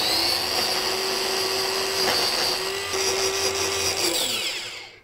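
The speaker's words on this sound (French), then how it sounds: "On va mixer notre purée." Blender whirring steadily as it mixes baby puree, a continuous close motor whine with slight pitch dips, fading out at the end.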